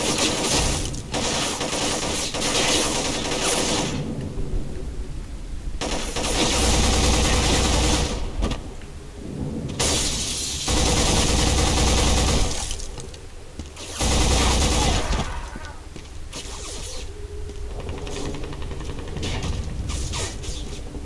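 Rapid bursts of automatic gunfire from a PS2 shooter game running on an emulator, loud sustained volleys broken by short pauses, with game sounds in between.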